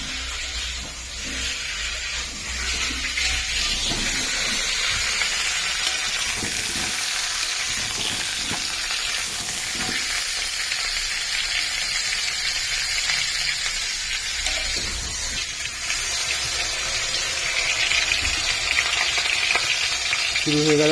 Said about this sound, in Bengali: শুরু হয়ে গেল বেরেস্তার জন্য পেঁয়াজ ভাজা।